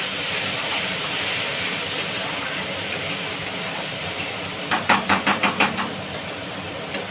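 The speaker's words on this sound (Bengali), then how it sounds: "একটু জল দিয়ে দিলাম মশলাটার জন্য" A steady loud hiss of water hitting spices in a hot frying pan, with a burst of rapid crackling pops near the end.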